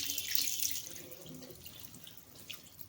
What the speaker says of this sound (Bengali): তো গাইস এখন আমি একটু চোখ মুখ ধোবো, তো চোখ মুখটাকে ধোয়া যাক ভালো করে